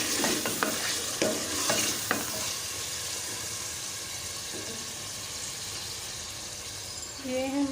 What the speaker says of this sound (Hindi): ये मेरे पास है आधा किलो चिकन